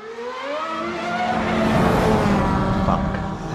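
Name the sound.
race car driving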